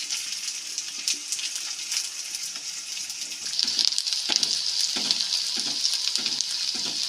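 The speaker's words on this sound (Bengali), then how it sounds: "পেঁয়াজটা খুব ভালোভাবে ভেজে নিতে হবে একদম যতক্ষণ না সোনালি কালার আসছে" Onions frying in a pan until golden for a spicy chicken giblets and liver dish, a steady bright sizzle with scraping stirs that grow more frequent in the second half, close and moderately loud, no voices.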